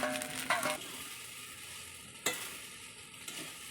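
Chicken pieces, capsicum and onion sizzle steadily in a pan while being stirred, with a few sharp utensil scrapes standing out over the continuous frying hiss; no voices.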